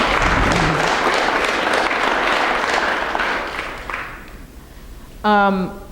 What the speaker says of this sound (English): we should give Paisley a big round of applause